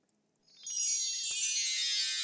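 Water is poured into a container on a comedy stage show, a steady, close splashing rush that starts abruptly and holds at an even level to the end.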